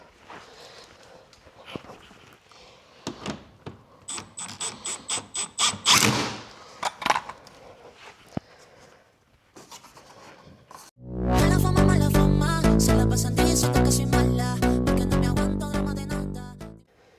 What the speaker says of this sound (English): Got my first self-tapping screw in.